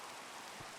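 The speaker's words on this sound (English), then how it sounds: "Now, let us get out of this awful rain." Soft, even hiss of steady rain in a mystery video game set at a mansion, faint and continuous with no voices.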